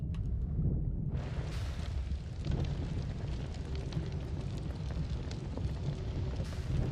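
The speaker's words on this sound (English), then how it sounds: "That was a big explosion." Big explosion in the game Noita: a sudden deep rumbling blast that swells and lingers as a dense, roaring wash of noise, heard alone without speech.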